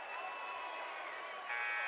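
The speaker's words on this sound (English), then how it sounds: "And the student section celebrates." A high school boys basketball crowd, with the student section cheering and applauding, sends up a continuous wash of noise that swells near the end.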